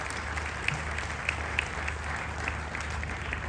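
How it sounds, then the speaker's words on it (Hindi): Steady, dense clapping fills a large auditorium during a business seminar, sustained and even throughout with a low hum beneath and a few sharper individual claps standing out. "सभागार से निवेदन करता हूं कि जोरदार तालियों से उनका उत्साहवर्धन करें"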